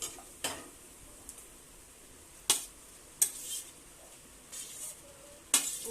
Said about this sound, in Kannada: ಒಗ್ಗರಣೆ ರೆಡಿಯಾಗಿದೆ ಇವಾಗ ಇಡ್ಲಿ ಹಾಕ್ತೀನಿ